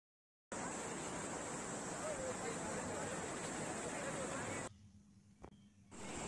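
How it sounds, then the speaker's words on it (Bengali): Floodwater pours steadily across a paved pitch road from the adjacent fields, a broad, even rushing hiss that holds for several seconds and then cuts out abruptly to near silence. "মাঠের দিক থেকে রাস্তার ওপর দিয়ে জল বয়ে যাচ্ছে"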